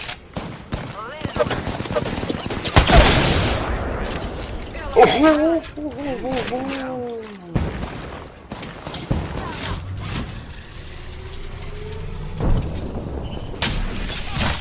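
Bursts of automatic gunfire in the video game Apex Legends, loud crackling volleys with a sharp shatter and whooshing effects, while a player talks over the action.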